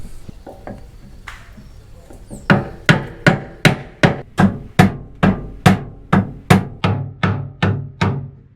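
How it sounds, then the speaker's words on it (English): Repeated heavy hammer blows on a boat's propeller shaft to free it from its seal system, in a steady rhythm, about a dozen sharp ringing metal impacts close by, each fading quickly before the next. "I think I need to go and keep hammering and the shaft's gonna come."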